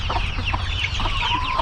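Several farm hens of mixed breeds, including production reds and barred rocks, cluck and chatter steadily, close by, over a low background rumble, with no talking.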